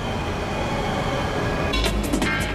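High-speed bullet train rushing past on straight track, a loud, steady roar of wheels and wind that swells near the end with sharp rattling bursts.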